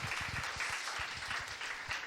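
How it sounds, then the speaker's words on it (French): Audience applause at a pitch event, steady broadband clapping across the whole stretch with no voices over it. "On peut l'applaudir parce que c'est quand même un beau projet."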